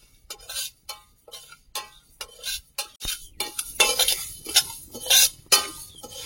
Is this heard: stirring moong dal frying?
yes